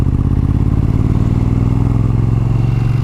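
Motorcycle engine running steadily while riding, a loud close rumbling drone with a fast even pulse that holds throughout, no voices.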